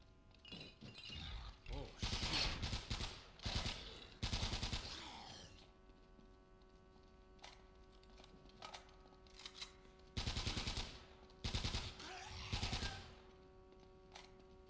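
Bursts of MP40 submachine gun fire in the video game Uncharted, fighting zombies, come as several short rapid volleys with gaps of quieter background between them.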